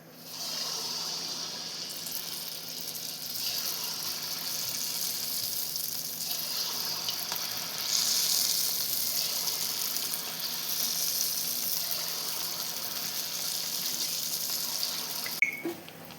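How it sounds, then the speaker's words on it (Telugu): Challa punugulu, buttermilk batter fritters, fry in hot oil in a kadai, producing a steady, even sizzle that holds throughout with a slight swell partway and no voices. "ఆయిల్ వేడైపోయింది ఇప్పుడు చూడు మనం చల్ల పునుగులు వేసేసుకుందాం"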